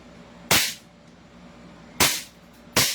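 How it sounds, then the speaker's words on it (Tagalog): Three sharp, loud pistol shots from a Taiwan-made M92 Beretta, spaced irregularly with short decaying echoes between them. "Firing. M92 Beretta Taiwan."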